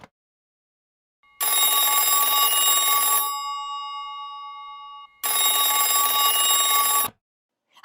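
Old-fashioned telephone bell ringing loudly in two long bursts separated by a pause, each a bright continuous electric trill, with no voices.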